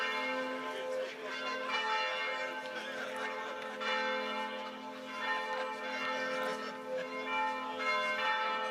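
Church bells of Romans-sur-Isère ring continuously in a rich, overlapping peal with long sustained tones, steady and moderately distant, with faint voices in the background at a pétanque final.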